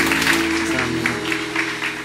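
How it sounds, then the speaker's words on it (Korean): A church congregation applauding together, a dense steady wash of clapping that holds at a fairly loud level for the whole stretch, heard from within the room. "우리 서로를 향해서 축복의 박수 한 번 더 부탁드리겠습니다"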